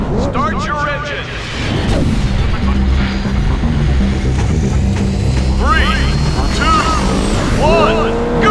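Race cars in the Test Drive Unlimited video game idle and rev loudly on the starting grid in a steady, rumbling drone, with a voice speaking over the engines.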